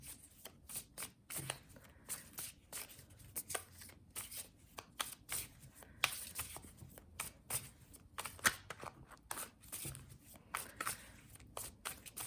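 Tarot cards are shuffled repeatedly in quick, crisp riffling bursts and soft slaps, close and quiet, continuing in an uneven rhythm with no talk.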